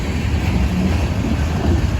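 A BNSF freight train rumbles past nearby, a steady low roar with wind buffeting the microphone and no talking.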